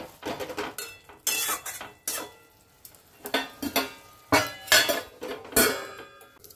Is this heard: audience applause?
no